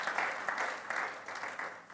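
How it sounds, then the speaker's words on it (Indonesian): A Sunday worship congregation claps together, a steady, fairly soft wash of many hands applauding with slight swells and no clear voices on top. "Berikan tepuk tangan bagi Tuhan Yesus"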